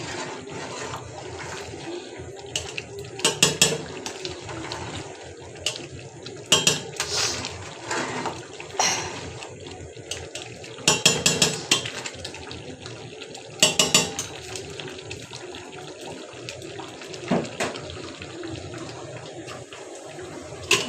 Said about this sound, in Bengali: আমি এবার ঢাকনা খুলে একটু দেখবো আর নেড়ে দেব যে নিচে থেকে লেগে যাচ্ছে নাকি